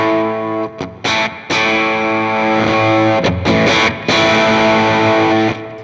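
An electric guitar runs through a volume pedal placed before a distortion pedal, playing loud sustained chords with a few brief gaps, the distorted tone easing as the volume is lowered.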